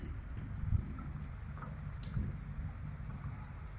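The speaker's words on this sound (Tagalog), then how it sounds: "Pangit yung panahon ngayon. 1 week yung ulan." Steady rain during a week-long spell of stormy weather falls outdoors among buildings, a dense even hiss with occasional low thumps and wind rumble, moderately loud and without any voices.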